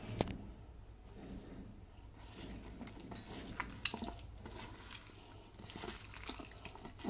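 Fish roe batter being mixed by hand with potato, pointed gourd, gram flour and baking soda, giving soft, wet squelching and stirring with light clinks of a bowl, faint and continuous throughout.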